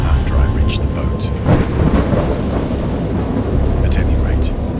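A thunderstorm in the horror video game Dagon: dense rain hisses steadily while deep thunder rolls beneath, swelling in the middle, with no talk.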